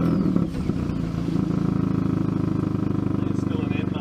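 A Hyundai i30N engine settles into a rough, throbbing idle right after starting, loud and close, with a brief clattery flare at the beginning.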